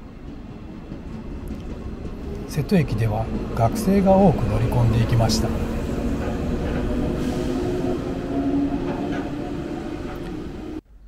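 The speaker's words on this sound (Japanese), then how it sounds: "115系電車が瀬戸駅を出発していきます。" A 115 series electric train rumbles and hums as it pulls away from Seto Station on the JR Sanyo Line in the dark, with someone speaking over the steady rolling noise.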